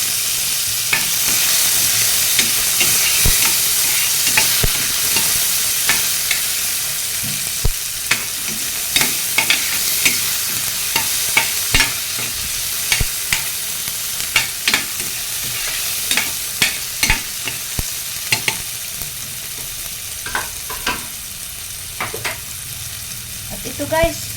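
Tomatoes drop into a hot pan and sizzle steadily while a utensil stirs and scrapes, with frequent sharp clicks and taps over a continuous loud frying hiss.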